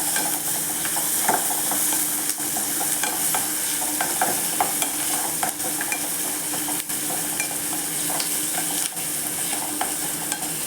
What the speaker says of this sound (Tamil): நல்லா கிளறி விடுங்க.